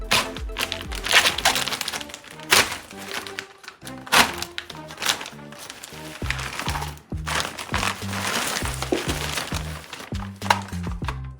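A cardboard box holding a NERF toy gun is opened by hand, with close tearing, crinkling, thumps and plastic tapping in irregular bursts, and occasional voice sounds in the background.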